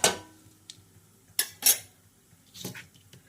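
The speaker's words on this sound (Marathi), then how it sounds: "आपण हे एका मोठ्या पातेल्यामध्ये ट्रान्सफर करून घेत आहोत" Puffed thin poha for chivda tipped into a large metal pot, giving a few sharp clattering metal knocks and scrapes spread apart, close and fairly loud, with quiet gaps between them.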